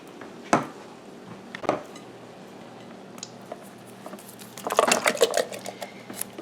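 Canned Great Northern beans tipped out of the can into a container at the sink, a couple of soft thuds early, then a wet, squishy clatter of beans sliding out, fairly quiet and close.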